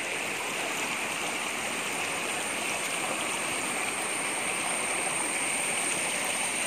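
A shallow stream flows steadily nearby, a constant broadband rush of water with gentle gurgling throughout and no talk over it.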